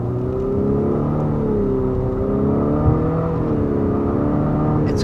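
Infiniti QX55 with a variable compression 2-liter turbo four-cylinder accelerates steadily, its engine note climbing and settling in smooth waves. The drone is close and constant inside the cabin, with no talking.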